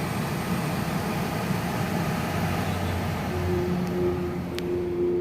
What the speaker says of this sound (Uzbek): Motorning ovozi.